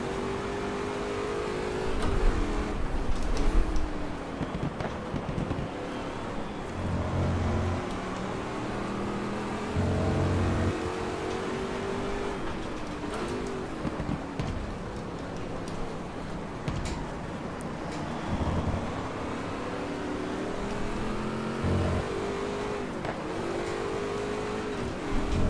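Shelby GT 350R racing around the Hockenheimring National circuit in the GT Legends racing game, its engine droning steadily throughout with rising and falling revs, gear changes and brief louder bursts.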